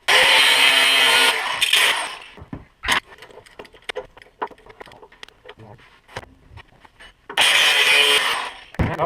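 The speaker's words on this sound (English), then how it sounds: "I'm going to cut this bar off and then tighten this one up" Two loud, harsh bursts of a power tool cutting through a metal bar while installing a Fisher 7125 plow push plate on a Suburban, separated by quieter clanks and handling noises.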